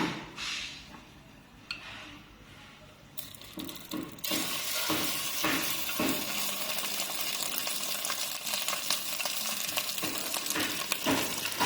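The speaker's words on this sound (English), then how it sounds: "And now we need to put the rice into the pan." Rice dropped into a hot pan with cooking oil, a brief clatter followed by a steady, fairly loud sizzling and frying hiss with occasional crackles and stirring scrapes, no talking.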